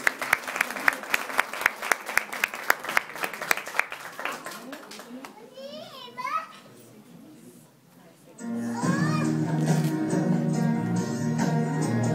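At a school poetry event, an audience claps to invite a student on stage, with sharp individual claps at first that thin out, then quieter sound followed by a voice over steady background music.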